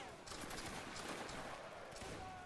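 A musket volley in the Roblox Waterloo game, British Army against Russia: a few scattered, crackling shots ring out together, fairly faint and distant, with no speech over them.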